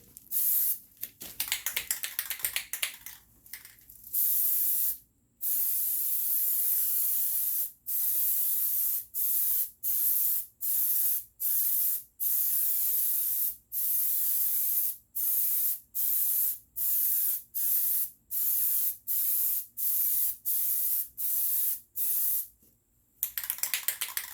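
Plasti Dip aerosol sprayed onto car wheels and around the tires in repeated steady hissing bursts, each a second or two long with brief gaps between, close and loud with no talking.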